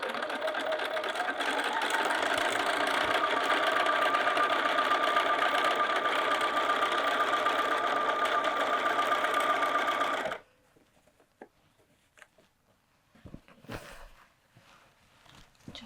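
A sewing machine back tacks while assembling a tote bag's outer pocket, running as a loud, steady, close whir for about ten seconds, then stopping, followed by soft fabric handling and clicks.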